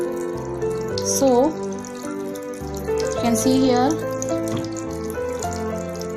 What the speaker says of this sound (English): You will observe here that water rushes out from both the holes, but they are falling at different distance.